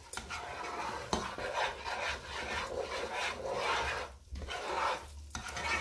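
A spoon scrapes and stirs steadily around a bowl as butter is worked into a homemade milk spread, producing continuous close rasping and rubbing strokes with brief pauses.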